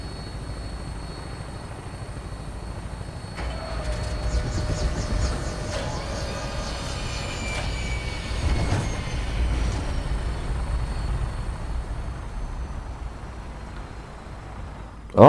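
An aircraft ride in Fallout 4 carries a steady mechanical engine drone with rhythmic rotor-like chopping, holding at a constant level throughout, with occasional higher whines layered on top and no talking.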